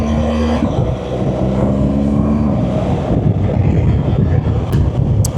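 Steady, loud roaring wind buffets the helmet of a rider on a BMW R1200GS at 40 mph with the visor fully up, a dense rumble with an engine drone underneath.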